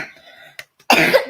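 A child coughs: one short cough, a brief pause, then a louder, longer rasping cough burst, close and alone without talk.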